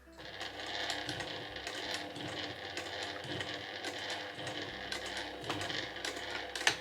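Domestic sewing machine stitching along a fabric shoulder strap, a quiet close rapid whirring hum of needle strokes running steadily for several seconds with small mechanical clicks and no talking.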